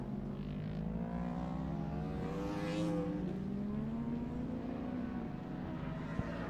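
Superbike engines race on the last lap of a Masters Superbike Championship round, a fairly faint, continuous whine heard from a distance that rises in pitch as a bike accelerates.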